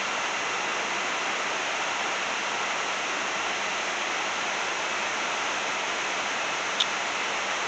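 Distant waterfall upstream, a constant broadband rush of falling water that stays even and unbroken from start to finish.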